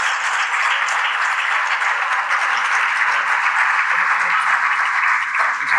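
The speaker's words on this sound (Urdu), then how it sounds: "میں چاہتا ہوں پرزور تالیوں کے ساتھ ان کا استقبال ہو" Audience applause greeting the poet Abbas Tabish at an Urdu mushaira in Doha, Qatar: steady, dense clapping from a crowd that holds at an even level throughout, with no voices heard.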